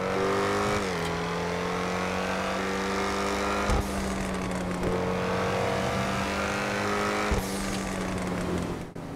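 An Ocelot XA-21 sports car, a prototype Jaguar, driving in GTA Online: a loud, steady engine drone through several gear changes, each marked by a brief dip and a sharp shift before the revs climb again.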